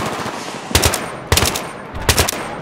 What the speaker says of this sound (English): They're just shooting at me.